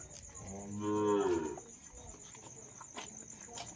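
A Gaolao cow on a Vidarbha farm gives one drawn-out low moo from fairly close by, then falls quiet, leaving soft insect chirps and a faint rustle in the background.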